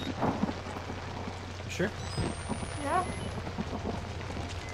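Steady rain falls with low rumbles of thunder in the horror video game Outlast, a continuous wash of sound under brief spoken words and a few quick game effects.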